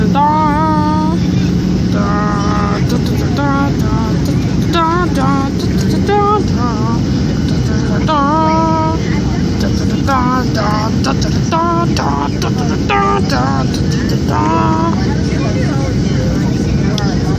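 A passenger plane landing, heard from inside the cabin as a loud, steady low engine and airflow roar throughout, with people talking over it for much of the time.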